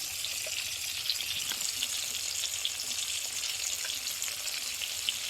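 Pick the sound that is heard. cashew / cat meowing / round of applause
cashew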